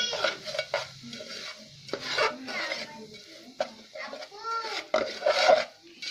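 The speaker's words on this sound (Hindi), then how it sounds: "इस सूजी को भूनेंगे कुछ देर, जब ये लाल हो जाएगी" Semolina being stirred and roasted in a pan for halwa, with a steady scraping rub of the spoon against the metal coming in repeated strokes. A voice and other talk run over the stirring throughout.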